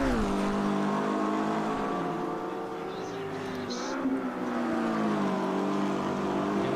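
GT3 race cars in a sim racing game battling through lapped traffic, a loud continuous engine drone with shifting pitch and layered revving from several cars close by.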